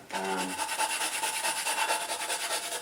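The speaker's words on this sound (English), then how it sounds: "just a little bit of 80 grit sandpaper" Coarse 80 grit sandpaper rubs against the cut edge of a carbon bicycle seatpost, a steady rhythmic scratchy rasping close up that continues without a break.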